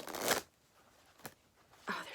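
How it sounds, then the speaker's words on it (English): Oracle cards from a past life oracle deck shuffled and drawn, a quick riffling burst followed by a soft single snap and another brief flutter of cards, close and quiet. "So we're going to pull 2 cards and see what we get."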